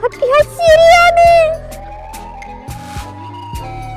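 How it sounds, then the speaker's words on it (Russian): A video game siren wails, rising and falling through the clip at moderate distance, mixed with a brief vocal at the start and low rumbling game background sounds. "Опять сирены."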